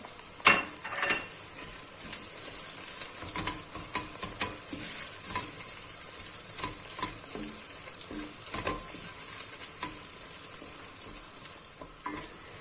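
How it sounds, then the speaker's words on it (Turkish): Ground meat with tomato and pepper paste fries in a pan, giving a steady sizzle broken by repeated scraping stirs of a utensil, heard close up with no talking. "Etimiz iyice kavrulduktan sonra salçamızı ilave edelim."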